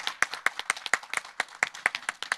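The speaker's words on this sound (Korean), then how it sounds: "여러분 다시 한번 큰 박수 부탁드리겠습니다." An audience at a talk concert claps repeatedly, giving a brisk, close run of crisp, uneven handclaps that sounds like a modest room of people applauding.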